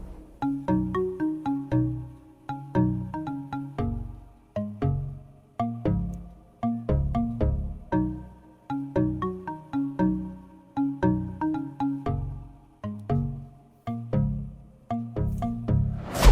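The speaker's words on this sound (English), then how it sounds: "this marimba slash plucky sound that played at the intro and then subsequently all through the song also" A plucky marimba-style melody built from the Xenology BS Marimba 2 preset with a Europa white xylophone layer, repeating a bright, bouncy pattern of short mallet notes over a steady beat for a long stretch, with no voices.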